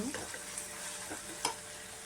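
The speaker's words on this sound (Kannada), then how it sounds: "ಚೆನ್ನಾಗಿ ಫ್ರೈ ಆಗಲಿ." Onions frying with salt in a pan, a quiet soft sizzle with a few light utensil taps and scrapes, close and faint, no talk.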